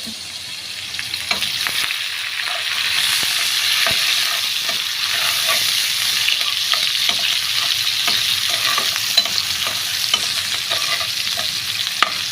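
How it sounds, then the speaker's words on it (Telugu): Onion pieces sizzling steadily in hot oil for a tamarind curry of dried fish, brinjal and potato, a close continuous fry with scattered stirring scrapes and pops, no voices. "ఇప్పుడైతే ఉల్లిపాయ ముక్కలు అయితే వేసేసాము పక్కపక్కలు ఆడుతుంది"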